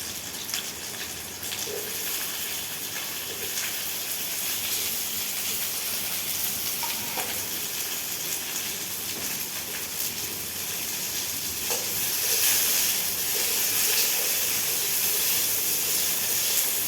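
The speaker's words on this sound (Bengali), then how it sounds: "এবার আমি ঢেঁড়সটা হালকা হাতে ভেজে নেব।" Okra frying lightly in a pan gives off a steady, close sizzling hiss that holds at a constant level for a long stretch, with faint stirring noises here and there.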